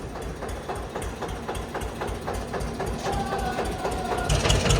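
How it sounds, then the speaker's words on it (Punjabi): An army truck's engine idles nearby with a steady low rumble and regular rhythmic knocking pulses, growing slightly louder toward the end. "ਫੌਜੀਆਂ ਵਾਲਾ ਟਰੱਕ ਇੱਧਰ ਫੇਰ ਆ ਗਿਆ ਜੀ"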